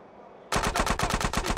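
Rapid automatic gunfire from GTA San Andreas Definitive Edition erupts suddenly after a quiet moment, a loud, steady stream of evenly spaced shots that keeps pounding to the end.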